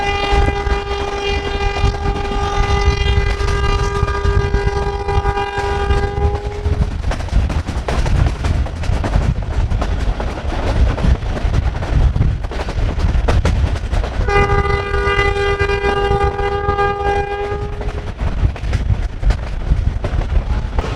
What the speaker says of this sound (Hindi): हमारी ट्रेन जो है वो इस वक्त दौड़ रही है, भाग रही है